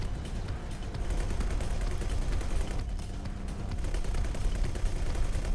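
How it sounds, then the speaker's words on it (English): Main battery cannons on a ship in the space game X4: Tides of Avarice fire in a continuous heavy barrage, dense rumbling booms that run on without a break and with no voices over them. "Let main cannon loose."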